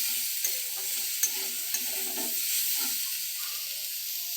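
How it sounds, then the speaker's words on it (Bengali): Fenugreek greens fry and are stirred in a pan, a steady bright sizzle with soft scraping stirs and a few sharp clicks of a utensil against the pan, heard alone. "ভালো করে ভাজতে হবে এটাকে।"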